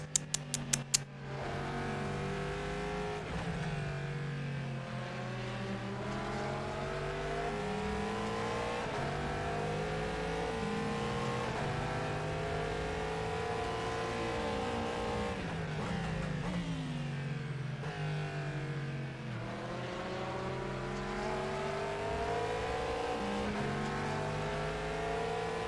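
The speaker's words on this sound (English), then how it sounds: "I wanted to show a nice onboard from the LMP2, and then Vyalenko goes into pits." Onboard sound from an LMP2 prototype race car lapping the Nürburgring during a 4-hour endurance race, loud continuous engine note rising through the gears with repeated upshifts and dips on braking.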